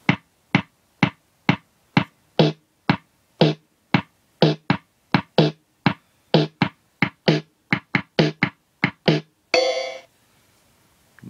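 Drum pads on a Casiotone MT520 keyboard from the late 1980s or early 1990s being tapped in a steady run of about twenty-five sharp percussive hits, close and loud, ending in a brief buzzing tone before silence.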